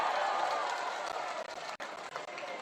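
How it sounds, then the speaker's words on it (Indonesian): Crowd of supporters applauding a speaker at an Indonesian political rally, a broad continuous patter of clapping at moderate distance, steady throughout with a few brief dips and sharper claps. "Boleh tepuk tangan untuk Bung Ismail Bahtiar."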